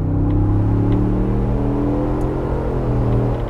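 A 2021 Ford Bronco engine revs hard under full-throttle acceleration, a loud, steady, rising engine drone heard from inside the cabin, sustained throughout with no talk.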